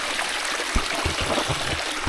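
Steady broadband rush of a long meandering waterfall stream running through a gorge near Kununurra, continuous and fairly close with no one talking.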